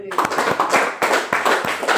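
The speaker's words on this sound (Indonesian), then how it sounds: "Boleh sekali lagi tepuk tangan ya" A small audience at a medical lecture on autoimmune disease claps in a short burst of uneven, fairly close hand claps with a slightly irregular rhythm.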